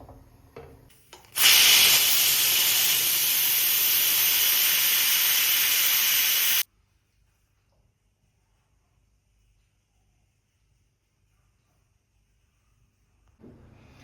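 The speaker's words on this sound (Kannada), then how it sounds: "ಲಿಡ್ ಕ್ಲೋಸ್ ಮಾಡಿಬಿಟ್ಟಿದ್ದನು 2 ವಿಸಿಲ್ ಬರೋ ತನಕ 2 ವಿಸಿಲ್ ಬರ್ಸ್ಕೋಬೇಕು" A pressure cooker releasing steam while cooking mushroom biryani: a loud, steady hiss lasting about five seconds, then cutting off sharply into near silence, with a faint clatter near the end and no talking.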